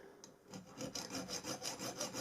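A hand saw cuts through a metal bolt fitted with a screwed-on nut. Close, rhythmic back-and-forth rasping strokes repeat at a steady pace, about three per second.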